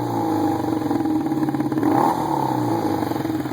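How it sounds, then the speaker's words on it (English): A 1995 Yamaha Seca II 600cc motorcycle with its exhaust end caps removed runs loud and close, a steady throaty exhaust drone that swells briefly in a rev before settling back to a rough idle. "The exhaust is pretty loud, as we talked about."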